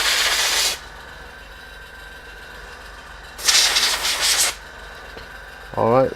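An air compressor cuts in during a Totopoly game restoration, with two loud hissing bursts of sprayed air separated by quiet, then a short low mechanical rumble as the motor starts near the end.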